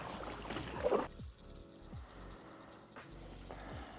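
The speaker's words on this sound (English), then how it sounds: "So paddle back up here, the current's kind of taking us down a bit further" A kayak paddle strokes up a small creek against the current, giving a few soft splashes and knocks a second or so apart over faint water and wind.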